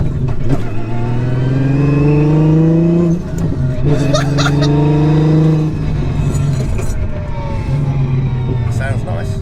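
Sequential-gearbox 1000bhp sleeper car engine at its first start-up, revving loud and close with rising and falling pitch sweeps, while people talk over it.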